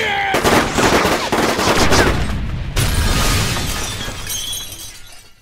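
Rapid gunfire in a Roblox video game, a dense loud burst of automatic shots mixed with shattering glass, then a second volley that slowly fades.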